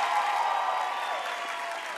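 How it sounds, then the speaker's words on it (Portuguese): A TV show studio audience applauds in a steady, moderately loud wash of clapping that tapers slightly toward the end, with faint voices and tonal sounds mixed in. "Nicole, mais uma salva de palmas pra ela"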